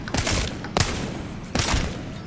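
Three loud Wingman revolver hip-fire shots from a video game, evenly spaced about three-quarters of a second apart, each a sharp crack with a short tail, with no talking.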